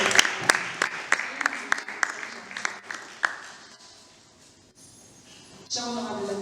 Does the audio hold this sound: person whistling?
no